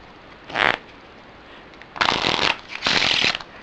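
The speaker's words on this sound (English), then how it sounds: "really do like shuffling with these cards. Like I said before, these cards are really soft, so it makes for really nice shuffling." Soft Bicycle 125th Anniversary Edition playing cards are riffle-shuffled in three distinct bursts, one short and two longer, each a crisp fluttering rush separated by quiet pauses, close up with no talking.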